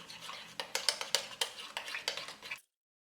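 A spoon stirs morning tea in a cup, clinking sharply against the sides in a quick run of about a dozen bright taps over two and a half seconds, close and clear, then stopping.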